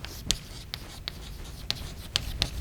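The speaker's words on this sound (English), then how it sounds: "Let me write it down." Handwriting during a control-systems lecture, heard as faint, scattered scratches and taps of a pen or marker at an irregular pace over quiet room tone, with no talking.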